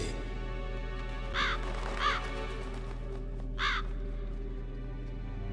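Crows caw in a video game, three harsh calls spaced about a second apart, clear and moderately close over a steady low ambient drone.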